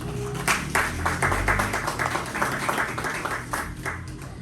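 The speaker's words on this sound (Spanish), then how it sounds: "les pido un aplauso para Carlos" Welcoming applause from a lecture audience greeting speaker Carlos at a talk on William Faulkner, a dense run of clapping with a few louder individual claps, fairly close and sustained.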